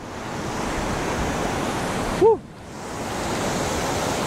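Palsabangon Falls in Pagbilao, Quezon, rushes in a steady, loud, broad roar of water that fills the whole stretch, briefly dipping near the middle with a faint tone.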